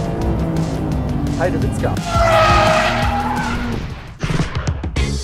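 Rear-mounted engine of a Porsche 911 GTS bouncing off its rev limiter on the Bilsterberg track, a loud, stuttering, rising wail with tyre squeal mixed in, followed by a short exclamation from a man.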